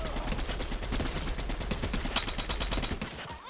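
Rapid automatic gunfire from Fortnite on PC rattles on without a break, a dense stream of loud shots filling the whole stretch.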